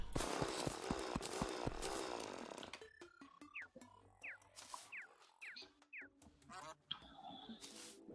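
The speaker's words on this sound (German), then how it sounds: "Hallo Ente." Duck quacks in Terraria sound in short, thin calls repeated several times over game music and effects, fairly clear and moderately loud.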